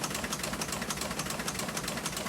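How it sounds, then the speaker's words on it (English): A historic printing press in the Vineyard Gazette offices in Edgartown runs steadily, printing the newspaper with a dense, even mechanical rumble and rapid rhythmic clatter, close and continuous with no voices. "That's the sound of the historic press in the Vineyard Gazette offices in Edgartown printing the paper."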